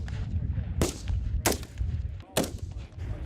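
Marine recruits fire rifles in training: three sharp, loud shots ring out about a second apart over a rumbling outdoor background.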